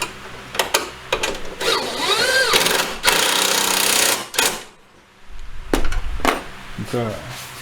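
An impact wrench (rattle gun) fitted with a 10mm socket, working on a supercharged VY Commodore during a transmission cooler install: loud close rattling bursts broken by short pauses, with people talking in between.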